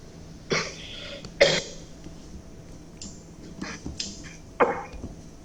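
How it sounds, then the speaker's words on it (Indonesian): Several short, sharp coughs and throat-clearing bursts during an indoor meeting, spaced irregularly over a few seconds, fairly close with a quiet room in between. "Saya ngomong banyak sedikit langsung batuk."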